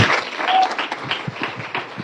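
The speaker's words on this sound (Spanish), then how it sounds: "Denle fuerte un aplauso a nuestro Dios." A church congregation applauds loudly to God at a service, with dense clapping up close that holds steady and then tapers slightly, a few voices mixed in.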